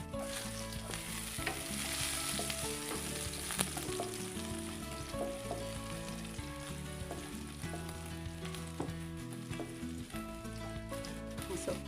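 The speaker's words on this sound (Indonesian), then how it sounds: "Tuangkan minyak lagi secukupnya. Lalu akan saya tumis bawang putih terlebih dahulu." Garlic sautéing in oil in a pan for stir-fried bitter gourd with egg, a steady bright sizzle with occasional stirring clinks and scrapes, close and even throughout.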